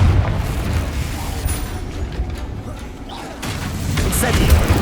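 A Confringo blasting curse explodes during combat in Hogwarts Legacy, heavy booming rumbles rolling through a dense, loud battle mix, dipping briefly midway before swelling again.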